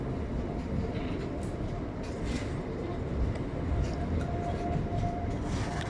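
A train rolls over a railway track passing above a fishing spot, giving a continuous heavy rumble and rattling clatter that stays loud and close throughout, with faint squeals on top.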